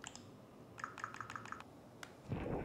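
Keyboard keys clicking as a new folder name is typed on a computer, a quick run of close, light taps followed by a single keystroke and then a soft rustle.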